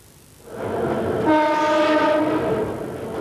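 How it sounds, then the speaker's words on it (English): A vintage Red Rattler single-deck electric train rumbles across the Sydney Harbour Bridge on its final crossing, its horn sounding a sustained harmonic blast over steady rolling rail noise, fairly close and loud. "The old Red Rattler has crossed the Harbour Bridge for the last time."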